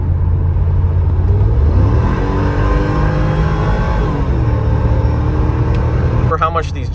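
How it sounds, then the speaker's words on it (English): A supercharged V8 in a Mercedes G55 G-Wagon with new M113K coil packs, idling with a deep steady rumble, then rising briefly under a blip of throttle before settling back, with talking over it. "Let's give it a little bit of throttle."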